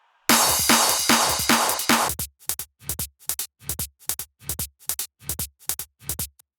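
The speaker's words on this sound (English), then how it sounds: "Then we have this hi-hat sequence." Hardstyle hi-hat sequence: dense, bright rapid hits opening the pattern, then a regular pulse of sharp separate strikes with low thumps, loud and close with no voices.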